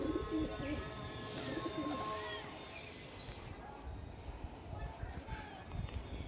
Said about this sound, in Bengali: বনো পায়রা আমাদের বাড়ির পিছনে থাকে